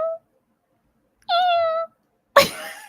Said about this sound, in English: I think it was a cat.